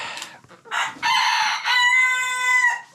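A rooster crows loudly and close in a farm chicken coop, a long drawn-out call following a few short clucks, heard alone without talk.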